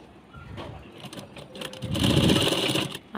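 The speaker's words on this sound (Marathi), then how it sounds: "मग मी खाली इकडे शिलाई घेते" A sewing machine stitches net lace fabric onto a readymade dress, its motor whirring in short bursts that build into a louder, steady run near the end, close up with no talking.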